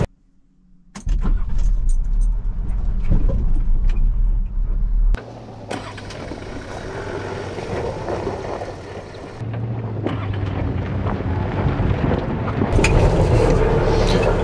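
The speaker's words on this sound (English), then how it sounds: "So the car's now being held on engine braking." Manual 4x4 rolling down a hill, held back by engine braking: the engine turns over and settles into a low, steady drone, joined by rattling like jangling keys and some wind buffeting on the microphone.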